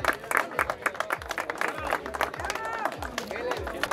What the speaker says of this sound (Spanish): Aplauso enorme, enorme para los mini.